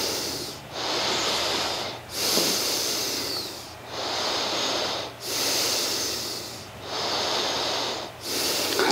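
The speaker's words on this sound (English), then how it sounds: "Breathing." Slow, deep yoga breaths, heard close and fairly loud as long hissing exhales and inhales in a steady cycle of about six breaths, with short pauses between them.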